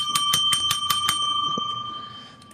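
A bicycle-style bell rings sharply about six times in a quick, even rhythm on a radio talk show, each ring bright and loud, then its ringing tail fades away.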